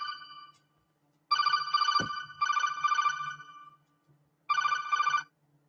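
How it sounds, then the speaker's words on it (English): A phone ringtone for an incoming call sounds in repeated bursts of bright, tonal electronic ringing, each about a second long with short pauses between, fairly close and clear over a quiet background with no talking. "Incoming call. I'm gonna grab that phone call too."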